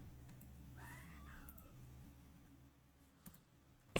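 In World of Warcraft, a troll druid in cat form gives a single clear meow near the start. Quiet game ambience and a few faint clicks follow.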